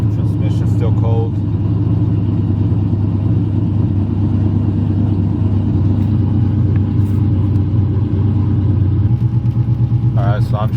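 A cammed Chevrolet Silverado engine cruises with a deep, lumpy rumble that stays loud and steady from start to finish, while a person talks over it.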